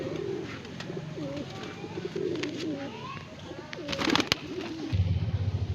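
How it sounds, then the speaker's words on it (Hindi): Pigeons coo steadily at a summer pigeon-flying tournament in Bareilly, Uttar Pradesh, with soft, rolling coos repeating close by through a light outdoor background and a brief burst of louder noise near the end. "बहुत ही लाजवाब कबूतरी है।"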